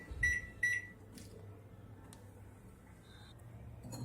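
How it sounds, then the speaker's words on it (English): A microwave oven set to full power while cooking gram flour dumpling curry gives two quick beeps, then a steady low hum that runs throughout, with a faint short tone near the end. "Now start microwave again, full power"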